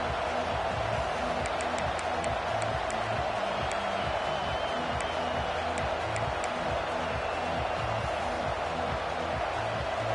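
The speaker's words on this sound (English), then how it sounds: "This crowd ready to make its presence known" Football stadium crowd at a Florida vs Michigan game, a loud steady roar filling the whole clip with scattered shouts and whistles, no pause or swell throughout.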